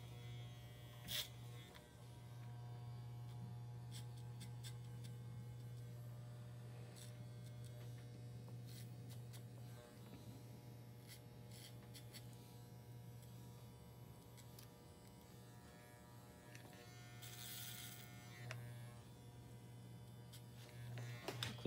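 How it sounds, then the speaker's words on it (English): Electric hair clippers run with a steady low buzz throughout, used clipper-over-comb while blending a man's haircut, close and continuous with small rises and no talking. "at this point, we can do some clipper over comb as we work our way back"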